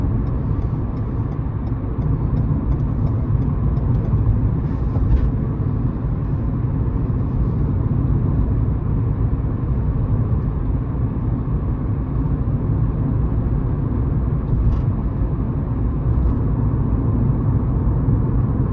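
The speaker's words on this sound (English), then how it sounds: "I accelerate to the 70 km/h speed limit" A car accelerates up to a 70 km/h limit on a motorway lane, heard from inside as a steady, loud low engine and road rumble with no talking.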